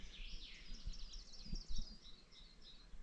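Small birds singing beside Lac des Joncs, a lake in a Swiss Alpine nature preserve; light twittering and chirping calls run steadily at a distance over low wind rumble, with a few soft thumps nearby.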